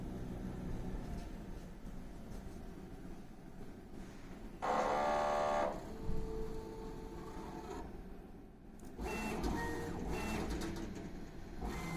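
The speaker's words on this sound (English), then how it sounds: "We print the nozzle again." A Refinecolor phone case printer runs a nozzle check, its print head carriage sweeping with a steady mechanical whir and a louder buzzing pass in the middle, with no voices.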